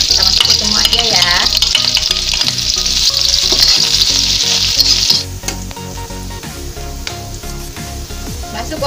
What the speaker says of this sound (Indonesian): Kita tumis perbawangannya